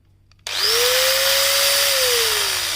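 A Hitachi right-angle drill runs with a loud, steady electric motor whine that starts abruptly, holds for over two seconds, then slowly drops slightly in pitch, heard alone and close.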